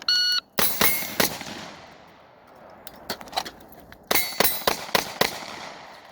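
An AR15 rifle fitted with a PSA 16-inch lightweight M-LOK upper fires rapid shots in two quick bursts, sharp loud cracks with ringing decay, opening with a brief electronic beep.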